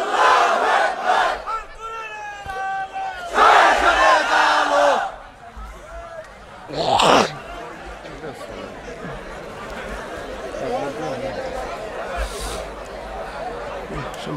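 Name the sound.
crowd chanting takbir, Allahu Akbar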